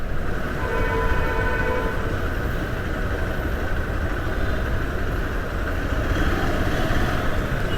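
A steady, loud rumble of a train at close range at a railway station in Trivandrum, with a sustained horn-like tone and no speech.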